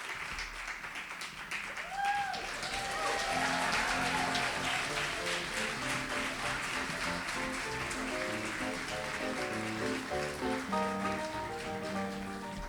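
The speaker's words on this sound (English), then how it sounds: "Give them another round of applause." Audience applause for sixth-grade poets at a live poetry event, steady crowd clapping that continues for several seconds while background music or tones sound underneath.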